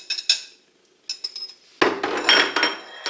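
A wooden spoon stirs pasta through a sauce of garlic and anchovies in a pan, giving soft clinks and scrapes in short bursts, then a louder, steadier stretch of clattering mixing toward the end.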